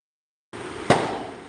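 A single sharp firecracker bang bursts out at a church procession, loud and close, cutting through steady background noise and leaving a short fading tail.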